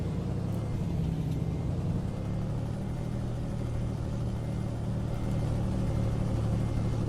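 A SCOT A2HD truck engine in American Truck Simulator idles with a steady, deep low rumble, constant and close without any revving or other sounds.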